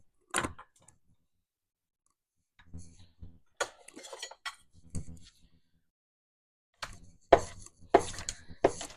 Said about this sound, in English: Just going to give these a rough chop so that when it's time we can add it to the jam.